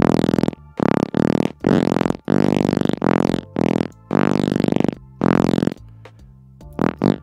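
A synthesized fart sound repeats in a string of loud, buzzy blasts of varying length, separated by short silences.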